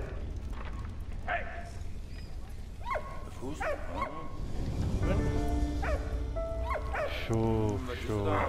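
A dog in Valiant Hearts: The Great War, a World War I video game, lets out a series of sharp barks and yelps over a busy game soundtrack, growing louder toward the end.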